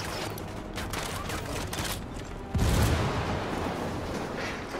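A grenade blast in the Ghost Recon Wildlands shooter, a loud close boom bursting out midway over ongoing crackling gunfire and a low rumbling din, with the heavy rumble lingering afterward.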